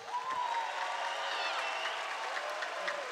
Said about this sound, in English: How about if we give a quick round of applause for the band,